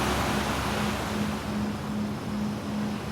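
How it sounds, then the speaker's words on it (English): Steady ocean surf washing continuously, a broad, close wash of breaking waves alone with no voices, its level holding even throughout. "enjoy the calming sounds of the ocean"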